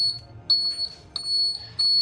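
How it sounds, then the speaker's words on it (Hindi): Anti-theft door security device buzzing in a home, repeated shrill electronic beeps in three loud bursts with short gaps, close by and alone. "आपका ये बजर बज के आपको इंडिकेट कर देगा"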